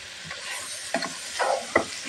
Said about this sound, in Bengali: মশলাটা দিয়ে অনেক মাংসটাকে আমি ভেজে নেব, কোনো পানি দিব না।